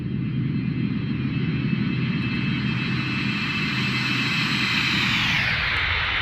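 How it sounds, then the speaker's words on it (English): A BAE 146 jet in a flight simulator game gives a steady, loud engine roar throughout a flyby, with a whining tone that falls in pitch near the end and no talking. "Another flyby."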